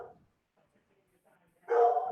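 A dog barks once, fairly close, during a town conservation commission meeting held over remote call, a single short bark after a quiet pause.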